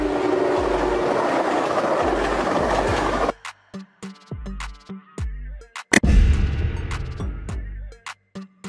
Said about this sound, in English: Passenger train. A train designed to transport passengers, offering seating and amenities for a comfortable journey.